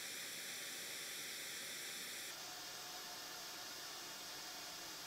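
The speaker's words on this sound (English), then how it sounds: "I'm using white noise and pink noise, then reading it on the graph and the software." Steady broadband hiss of a white or pink noise test signal for measuring room frequency response with a Behringer ECM8000 microphone, constant and loud, shifting in tone partway through, with no voices.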